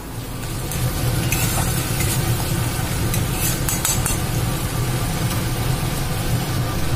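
Onion, green chili and tomato fry and sizzle in a pan while being stirred, a steady close hiss with faint scraping throughout and no talking.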